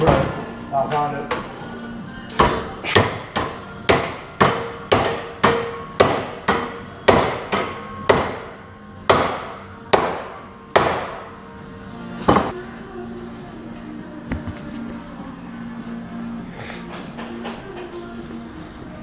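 Sharp metal-on-metal hammer blows strike a metal bracket, about fifteen evenly spaced, ringing hits close by, then a pause and a few scattered taps, with no voices.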